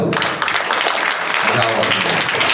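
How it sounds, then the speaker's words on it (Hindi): A class of children in a classroom claps for a student, with a burst of dense, steady applause that carries on for a couple of seconds amid some background voices. "इसलिए एक बार ताली बजा दो।"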